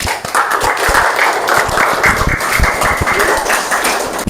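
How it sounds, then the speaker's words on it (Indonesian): Dense applause and clapping from a classroom of students cheering a classmate during an Islamic religious education lesson, a steady roar of many hands throughout with scattered taps and thumps. "Kan aplaus dulu untuk teman kita"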